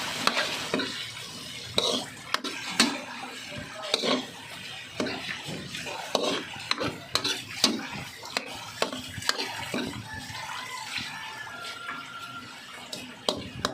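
Shrimp, ground meat and bottle gourd sautéing in a pan for Filipino ginisang upo, a constant loud sizzle broken by frequent clattering stirs and scrapes of a utensil.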